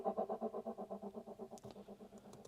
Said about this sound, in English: So a few of the effects are reverb throws